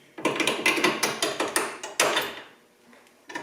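Metal clanks and ratcheting on a 1976 Mazda RX-5 as a front air strut bracket is bolted in, a quick series of sharp, close knocks and clicks for about two seconds, then a pause before one last knock.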